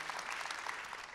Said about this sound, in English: You are right to clap